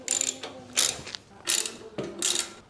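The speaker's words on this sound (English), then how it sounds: "I have just finished tightening these 4 bolts" Ratchet wrench tightening bolts on a cargo carrier cage pressed against the vehicle's tubing, four bursts of quick clicking ratchet strokes with short pauses between, close and fairly quiet.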